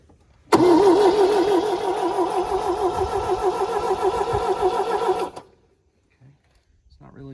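A hot-wired 1974 MG, parked for 30 years, cranks loudly for about five seconds with a wavering, rhythmic starter churn, then stops abruptly, leaving near silence and a couple of faint knocks.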